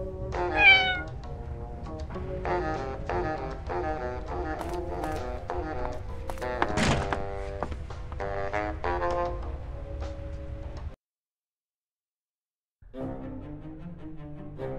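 A cat meows in the video game Alcatraz 1954, one short cry at the start over a steady bed of game music, which drops out briefly near the end before resuming.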